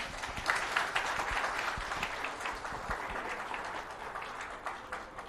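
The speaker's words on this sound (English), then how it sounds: "Big round of applause for him." Sustained audience applause at a live government presentation on the Musi River in Hyderabad, dense steady clapping from a large crowd that holds strong throughout and eases slightly toward the end, with no talk over it.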